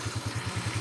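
A motorcycle engine with a freshly rebored and refreshed top end runs on a road test in Bautista, Pangasinan, giving a steady low pulsing thrum of even, regular firing beats, fairly close and without talk.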